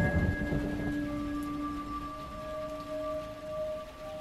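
Rain falls steadily as an effect in an Indonesian horror radio drama, a soft constant patter with a low rumble of thunder at the start, under faint sustained tones and with no voices.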